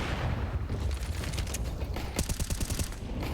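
A rapid spray of automatic gunfire in the Counter-Strike video game at a pro match, dense and loud throughout, with a burst of fast, distinct shots near the end.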